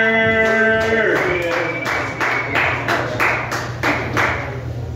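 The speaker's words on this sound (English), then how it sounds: "clap it up for Patrick Yoder." An audience at a comedy show claps for comedian Patrick Yoder, rhythmic hand claps close by as music fades out at the start.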